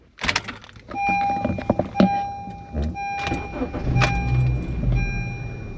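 Keys jangle and a door chime rings inside an older Honda with about 152,000 kilometers, followed by a short low crank as the engine turns over and catches, all close by.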